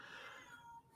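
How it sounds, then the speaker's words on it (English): A cat meows at a closed door. The single drawn-out cry sounds faint and a little distant. "she's meowing at the door"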